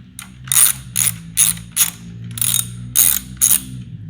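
A ratchet wrench undoing bolts on the bypass valve of a 2008 Subaru Outback XT turbo, clicking in seven short, sharp bursts of rapid pawl ticks, close and loud with brief pauses between strokes.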